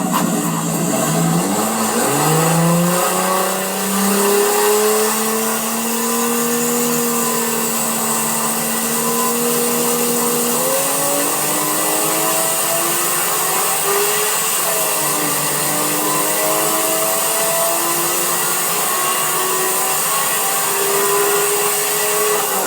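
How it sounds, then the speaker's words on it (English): A Nissan R34 Skyline engine pulls at full power on a dyno with turbo boost, a loud sustained rising drone that climbs steadily through the gears with brief shifts, close and continuous with no talk. "A full dig on the dyno, a full 8th mile pass. We're going to see what the car does."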